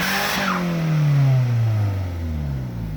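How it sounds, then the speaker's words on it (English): A Honda Civic's engine drones loudly up close, with the pitch swelling and then falling away over a few seconds while its tires spin to warm up for traction. "Gotta warm up the tires for traction."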